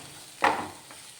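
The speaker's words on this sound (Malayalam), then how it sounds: "രണ്ട് രണ്ട് കറിവേപ്പിലയും കൂടെ കട്ട് ചെയ്തിട്ടുണ്ട് അതും കൂടെ ചേർത്ത് കൊടുത്തിട്ടൊന്ന് വഴറ്റിയെടുക്കണം" Spices and chopped curry leaves being sautéed in a pan for a festive snack give one short, close burst of sizzling stir, rising and fading within a second, then a faint scrape.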